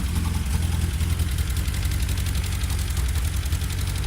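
An engine at first start, still on choke, idles unevenly with a low, steady rumble and a slight pulsing lumpiness, close and continuous with no talk.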